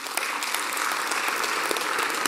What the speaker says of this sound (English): Applaud again.